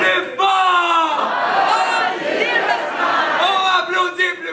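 A school auditorium crowd yells together at full volume, a dense continuous roar of many voices that keeps rising and falling slightly without a break.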